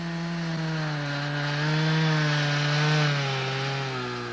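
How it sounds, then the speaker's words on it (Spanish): A Stihl chainsaw cuts into a tree trunk during felling, running with a loud, sustained engine whine that rises slightly in the middle. It is close and steady, with no talk. "Cortando con cadena entrante, la motosierra penetra por sí misma en la madera."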